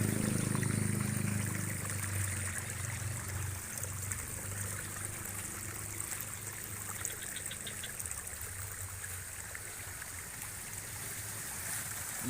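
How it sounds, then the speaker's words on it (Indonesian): Spring water running into a fish pond, a soft continuous trickle and gurgle heard from nearby, faint and steady with no voices. "Mata airnya guys."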